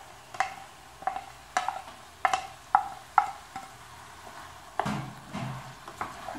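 Chopped onion goes into a pan of frying meat and is stirred, giving a steady sizzle broken by regular scraping clicks of a spoon against the pan, close and with no talking.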